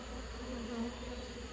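A swarm of honey bees buzzes steadily while being moved into a hive, a dense, continuous hum heard close and fairly loud with no voices.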